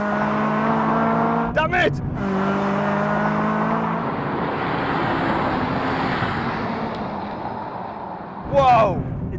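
Honda Civic Type R FK8 and FK2 hatchbacks drag racing side by side, engines droning steadily at high revs with a whooshing pass-by near the end, while people talk and exclaim over the engine noise.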